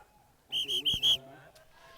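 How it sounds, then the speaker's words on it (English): Referee's whistle at a polocrosse match between Zimbabwe and Ireland, several short sharp blasts in quick succession, clear and fairly close, followed by a brief quieter toot, over faint background crowd noise. "You can tell Derek's definitely found his whistle now. He's given it a few sharp blows there."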